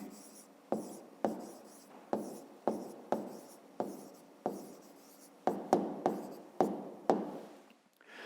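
A pen writes out an answer to a fifth-grade math exercise, a series of about fifteen short scratchy strokes in uneven rhythm, close and quiet, with no talking.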